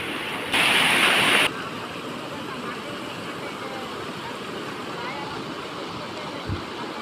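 Floodwater flows across a blocked road in a Krishna River lanka village: a constant broad wash of rushing water, with a short burst of hiss early on and a faint thump near the end.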